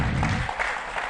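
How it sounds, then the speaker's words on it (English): A brief burst of audience applause, many hands clapping together in a room. "Please give her a round of applause"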